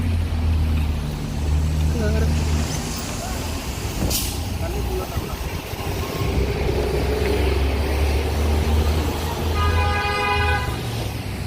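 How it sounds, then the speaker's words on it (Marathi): Vehicle horns toot repeatedly amid rumbling traffic and engine noise on a busy downtown Chicago street, with a hiss like an air brake partway through. "तुम्हाला इथे हॉर्न ऐकवला असेल गाड्यांचा"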